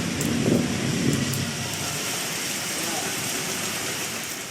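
Heavy rain falls in Krishnagiri, Tamil Nadu, as a steady, dense roar with no pauses, and a low murmur of voices comes through near the start.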